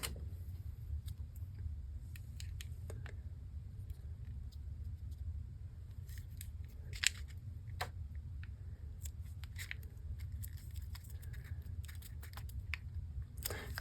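A paper trimmer slicing paper for an art journal, scattered quiet clicks and snips over a low steady rumble, with no talking.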